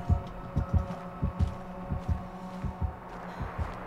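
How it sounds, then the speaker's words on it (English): Killer's terror-radius heartbeat in the Dead by Daylight horror game, a deep, throbbing double-thump pulse repeating steadily and loudly over a low droning hum, with no voices. "I hear the heartbeat."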